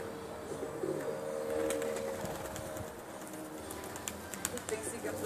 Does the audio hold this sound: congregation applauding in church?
no